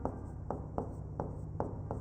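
Chalk or marker strokes on a classroom board during a biology lesson on DNA, a steady scratchy rubbing broken by short sharp taps roughly every quarter to half second, close and fairly loud with no talk.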